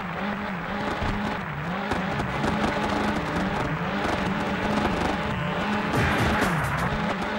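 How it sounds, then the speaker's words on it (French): Conrad Motorsport GT2 race car in the PlayStation game 24 Heures Du Mans, its engine droning loud and close with rising and falling revs, and tires squealing now and then. "Conrad Motorsport GT2"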